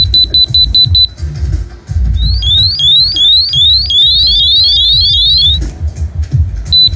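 An Orion Skylife skydiving altimeter's built-in beeper sounds loud, piercing electronic alarm tones: steady repeated beeps, then a run of rapid rising chirps, then beeps again, close up over low room noise.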